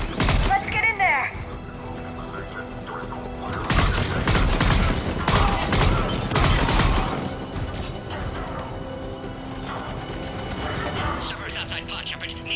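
Bursts of gunfire and booming explosions in a Mass Effect 3 firefight, with loud crackling volleys throughout, mixed with in-game voices and combat noise.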